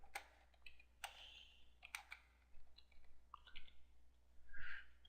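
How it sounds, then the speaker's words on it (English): Keys on a computer keyboard click in quiet, uneven bursts of light taps, with short pauses between runs of typing and a steady low hum underneath. "I start typing"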